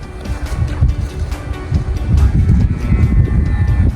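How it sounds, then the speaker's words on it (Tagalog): Strong wind buffeting the microphone in loud, rumbling gusts, steady throughout with no voices. "Grabe lakas ng hangin sa taas."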